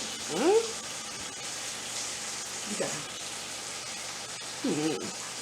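Chicken sizzles on a Power XL smokeless grill after being flipped, a soft, steady frying hiss with a few brief scraping sounds from the turning.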